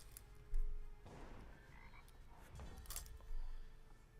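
Frog croaks from the Eternal digital card game, a few throaty game sound effects rising over a low background of game music, with a louder burst near the start and another near the end, no talk.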